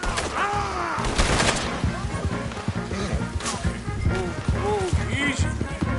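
Gunfire in Red Dead Redemption 2 during a horseback escape, with rapid shots crackling over galloping hooves and a dense, loud game mix, voices shouting at times.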